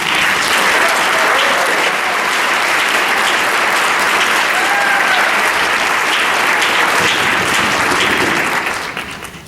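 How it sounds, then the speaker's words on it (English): Sustained, loud applause from a large audience at a wind ensemble concert, steady clapping throughout before tapering off at the very end. "let's hear a round of applause for Nick Stockton."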